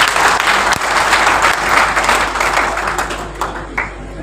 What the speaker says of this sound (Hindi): एक बार ताली बजा दो इनके लिए